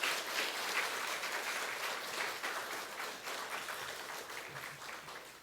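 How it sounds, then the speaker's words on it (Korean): A church congregation gives a pastor a warm round of applause at a Wednesday worship service, steady clapping from a large room that slowly fades, with no talk over it. "나오실 때 큰 박수로 환영해 주시면 고맙겠습니다."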